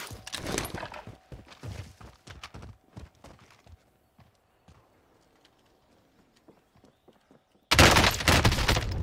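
Gunfire in the video game Call of Duty Warzone, a burst of sharp rapid shots at the start and a loud dense volley at the end, with scattered quieter shots between.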